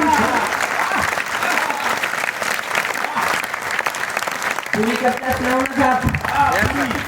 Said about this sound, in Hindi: एक बार तालियां उठा के